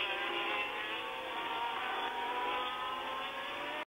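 Gilles Villeneuve's Ferrari Formula 1 car at the 1979 French Grand Prix at Dijon-Prenois, accelerating hard uphill: a loud, sustained, high engine howl that holds steady, then cuts off abruptly at the end.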